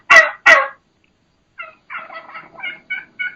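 Two loud sharp bursts open, then a quick series of high-pitched yelps from a wild turkey hen, close and clear with silence between phrases.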